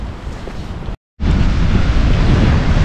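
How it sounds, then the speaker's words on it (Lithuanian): Strong wind sweeps along the Atlantic Ocean shore under a steady roar of surf. The rush is loud and close, heavy with buffeting on the microphone, and breaks off briefly near the start before resuming. "Nu ir va, galingasis Atlanto vandenynas."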